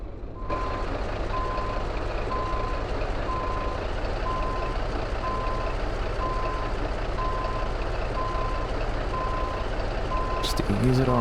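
Steady evenly spaced reversing beeps from a truck backing a trailer in American Truck Simulator, over a constant engine rumble, with a brief air hiss near the end; someone talks over it.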